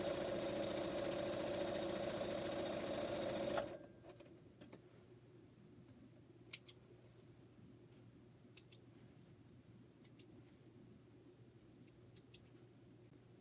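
A sewing machine stitching quilt pieces runs in a steady mechanical hum for a few seconds, then stops, leaving faint room tone with occasional soft clicks.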